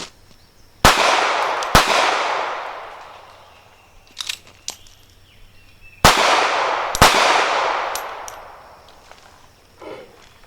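A Kahr P380 pistol fired left-handed at a shooting range: four sharp, loud gunshots in two pairs, each crack ringing into a long decaying echo, with faint metallic clinks in between.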